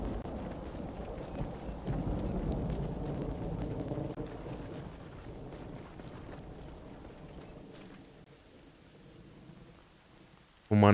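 Steady rain pours in the Red Dead Redemption game, with low rumbling thunder rolling underneath, a dense wash that fades slightly before a sudden loud burst at the end.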